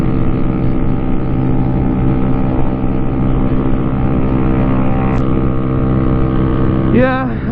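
A Yamaha R1 motorcycle engine drones steadily while being ridden, a loud, close, even hum with wind noise and no breaks, and a voice speaks briefly near the end.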